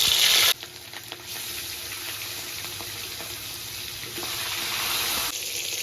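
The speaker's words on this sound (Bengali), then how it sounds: "তেলের ভেতর এবার মাছের পিসগুলো ছেড়ে দেব।" Marinated rohu fish pieces dropped into hot oil set off a loud, continuous sizzle with crackling spatter, heard close and steady with no voices.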